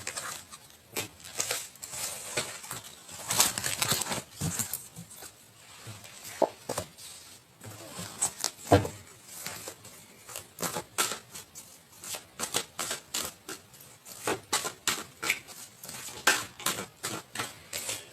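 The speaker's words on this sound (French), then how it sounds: "je reprends les cartes et on va reprendre pour avoir un peu plus d'éléments" Tarot cards being shuffled, a dense run of quick papery riffles and flicks that continues steadily and close by, with no talk over it.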